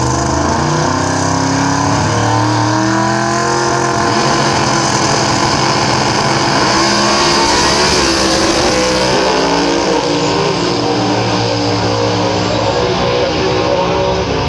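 Nitro funny cars and top fuel dragsters at Willowbank Raceway, Queensland, a loud, continuous engine roar with crackling, rasping combustion that holds at full power before easing off toward the end.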